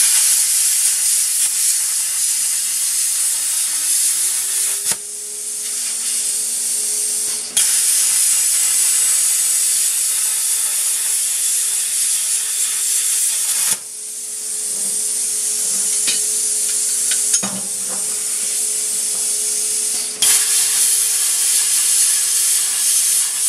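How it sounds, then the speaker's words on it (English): A Miller Spectrum 2050 plasma cutter set at 45 amps cuts quarter-inch hanger material, giving a loud continuous hiss and rush with a steady tone, broken by several brief pauses and restarts. "go ahead and cut a piece of quarter inch hanger material"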